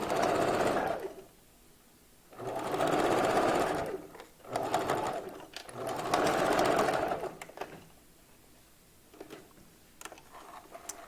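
A sewing machine stitches a hair track onto a wig in three or four loud, steady whirring bursts, separated by short pauses and followed by soft handling clicks.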